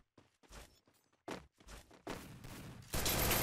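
Rapid bursts of gunfire in the game Free Fire Max, starting with scattered shots and building into dense, loud volleys toward the end.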